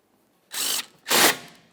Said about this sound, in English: Start in your slider mounting bolts. Snug them up.